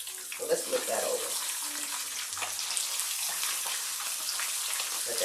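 Fish sizzling in a pan on medium-high heat, a close crackling hiss with splashy bursts, while a person talks over it.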